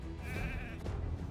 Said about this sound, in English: Now it's a sleeping sheep.